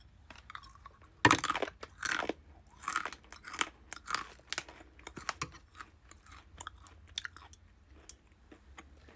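Asian snacks being chewed and crunched during a taste test, with irregular close crunches and bites spread across the stretch, no talking.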